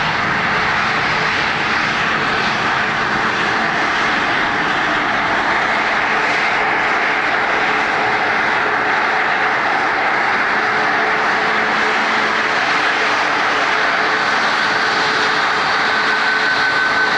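Airliner landing at Dublin Airport, heard as a steady, loud jet engine roar that persists throughout with little change, outdoors near the runway.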